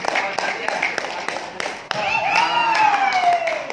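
A handful of sparse claps from an audience at an agricultural fertilizer presentation, welcoming a speaker, followed by a voice speaking over the room.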